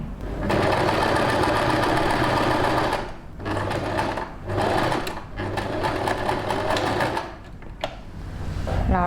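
A sewing machine stitches a blouse seam in fast, loud mechanical bursts, with short pauses between the runs of stitching.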